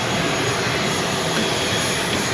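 A propeller airplane at an airport in Laos makes a steady, loud, close engine drone that holds without a break throughout.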